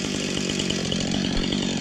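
A chainsaw runs steadily and loudly, cutting tree stumps down in a pasture on a farm, its engine droning without a break for the whole stretch.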